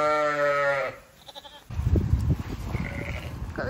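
Texel sheep and lambs on a farm bleating: a long, loud, close wavering bleat, then fainter calls and rustling movement with more distant bleats behind.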